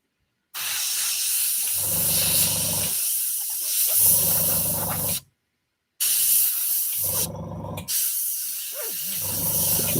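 An older Tamiya airbrush sprays paint onto a scale model from close range, giving loud steady hissing bursts of about two seconds each, separated by short pauses and one full cutoff.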